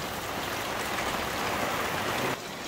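Rain pours steadily on a shipping container, a dense, even hiss of drops drumming on the metal nearby, easing slightly just before the end.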